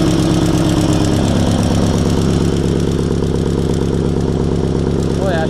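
A Sears SS16 engine runs after a cold start at -25°C, over-fuelled and pushing black smoke, with a loud, steady, throbbing chug that carries on unbroken throughout.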